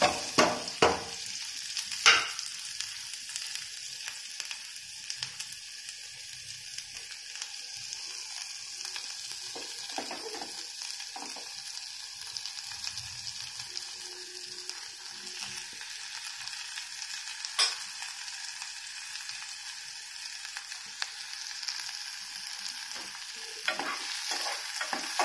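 Cumin seeds and chopped onion fry in hot oil with a constant hissing sizzle, sharp clinks and stirring scrapes at the start and scattered knocks later, and no one speaking.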